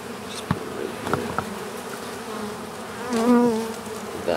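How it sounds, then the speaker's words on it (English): A swarm of bees crowded on a wagon buzzes close by, a continuous droning hum with individual bees whining past the microphone and a louder buzz swelling near the end. "That's a lot of bees."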